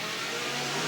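Stock cars at Willamette Speedway in 1989 roar past at racing speed, a dense sustained engine drone that is loud and continuous throughout the brief moment.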